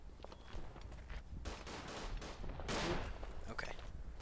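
Gunfire in the Verdun video game, with a scatter of distant rifle shots and cracks over a steady battlefield rumble, one louder burst standing out midway, fairly faint overall with no talk.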